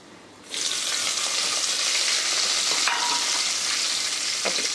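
Onion drops into a pan of frying garlic and erupts into a loud, steady sizzle close by. A couple of brief scrapes or clinks sound over the hiss.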